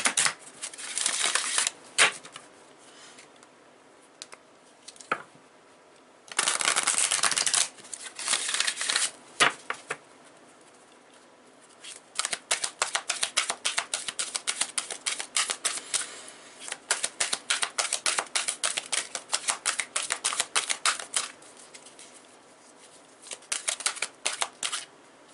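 Numerology cards handled and shuffled up close, with rapid crisp riffling bursts broken by short pauses and occasional taps and rustles, fairly loud and with no voice over them.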